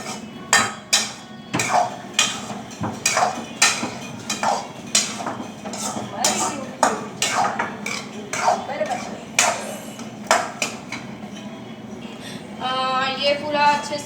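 A metal spoon mixes ingredients in a pot with steady clinking and scraping strikes against the sides, close and fairly loud, followed by a brief higher rattling at the end.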